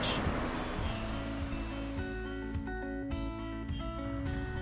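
Steady wash of surf at Adventure Bay beach on Bruny Island, Tasmania, a continuous broad roar of waves that stays even throughout, with music playing over it.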